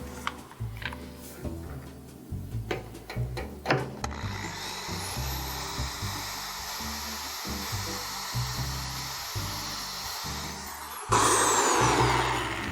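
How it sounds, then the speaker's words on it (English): A power drill drills holes into mounting plates for tiki wall sconces, with a steady loud whirring motor running continuously for several seconds and then rising in pitch near the end, preceded by brief handling clatter. "a tiny nail to mark the spot on the mounting plates where I need to drill a hole so we can screw mount it on"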